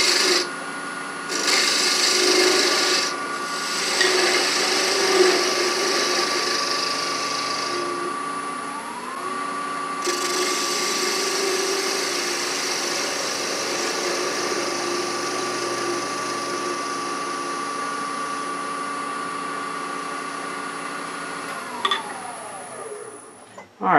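Wood being turned on a lathe as part of an acorn box is reshaped, a steady whirring hum with continuous tool scraping and rasping, louder near the start and then fairly even, with a brief change in tone near the end.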